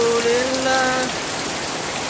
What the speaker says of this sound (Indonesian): Alhamdulillah hari ini hujan lagi di Buol.